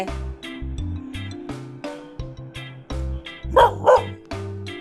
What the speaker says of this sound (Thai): โวยวายอะไรเห่าอะไร เมื่อกี้เนี้ยเห่าอะไร